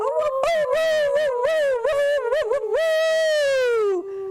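Dogs howl together in long, loud, drawn-out wails that rise and fall with smooth pitch bends, the voices overlapping and holding steady for several seconds before tapering off, with no talking.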